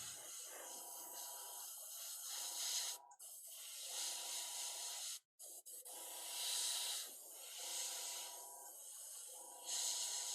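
An airbrush sprays paint onto a Dungeons and Dragons monster miniature in soft, repeated hissing bursts of a second or two each, with one short pause near the middle. The spray is faint and close.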